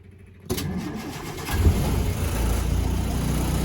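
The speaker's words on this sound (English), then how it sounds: "quick video of engine start up and running on this 1959 Land Rover Series 2" A petrol engine in a 1959 Land Rover Series II 88-inch starts up: a click, a brief starter crank, then the engine catches and settles into a steady, loud, close idle.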